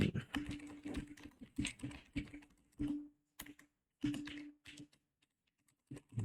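Clattering keystrokes on a computer keyboard in uneven bursts of quick taps with short pauses, close and fairly quiet, while someone talks at times.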